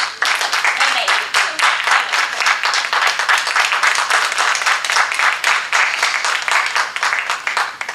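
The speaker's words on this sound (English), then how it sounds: "let's give them another round of applause." A conference audience gives the standing speakers a loud, sustained round of applause, with dense, even clapping continuing for the full eight seconds.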